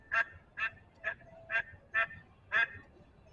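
A duck quacks six times in a steady, evenly spaced series of short nasal honks, fairly close and clear against a quiet background.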